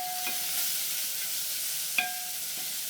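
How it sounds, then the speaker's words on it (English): Chopped onions hit hot oil in a pot for tomato sauce, giving a steady soft sizzle with a faint clink of a utensil. "So I'm going to add my chopped onions."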